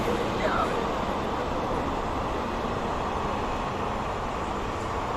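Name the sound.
passing train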